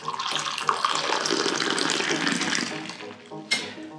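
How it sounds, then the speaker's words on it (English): Coffee poured from a height into a cup, a loud continuous splashing stream lasting about three seconds that tapers off, followed by a brief clatter. "Pour your coffee and enjoy it."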